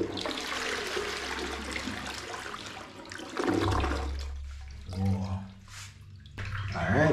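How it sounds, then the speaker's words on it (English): A toilet in a newly finished secondary bathroom of a house in Jamaica gets its first flush, a loud rushing swirl of water draining and then refilling with gurgles, close by. "So, first flush now, guys."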